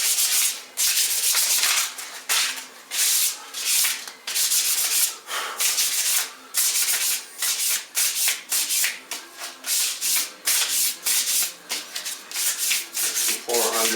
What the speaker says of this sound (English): Some 400 dry sandpaper here, scrap.